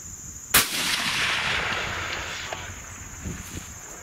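A single sharp rifle shot fired at a long-range target outdoors, loud and close, followed by a long rolling echo that fades over several seconds, with faint wind.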